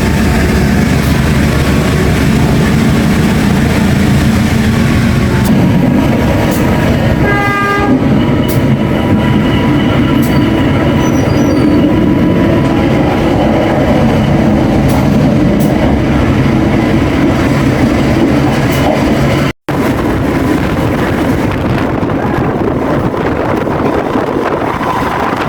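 Inside the Serayu night train, a steady loud roar of wheels on rails fills the carriage, with a brief horn-like tone early on and a single sharp clack near the end.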